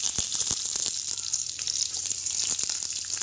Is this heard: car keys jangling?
no